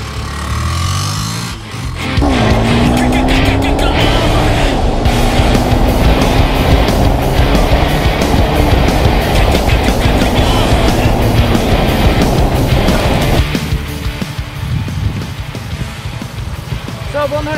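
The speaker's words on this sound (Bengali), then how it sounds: "কুইক রাইড, রাইডের একটা মজা নিয়ে আসি, দেখি এই বাইকটা কীরকম পারফরমেন্স দেয়।" A 2019 Yamaha FZ S version 3.0 motorcycle with ABS ridden on a road, its engine droning steadily under rushing wind, with pitch rising and falling as it accelerates, then easing and growing quieter near the end.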